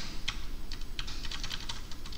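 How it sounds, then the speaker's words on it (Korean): Rapid typing on a computer keyboard, including tab key presses, with a quick irregular run of crisp close-up key clacks and no voices. "탭 한 번 한 거고요. 버티컬 바하고 또 탭 한 번 한 거예요"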